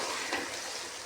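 Boiled potatoes and cauliflower fry in a pan for aloo gobi, giving a steady, close sizzle with a brief stir partway through.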